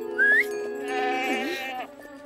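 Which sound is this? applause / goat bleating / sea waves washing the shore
goat bleating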